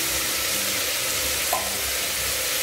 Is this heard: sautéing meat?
yes